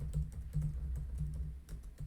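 Fingers type on a computer keyboard while writing Visual Basic code, producing quick, close, soft clicking keystrokes in an uneven rhythm with no voices.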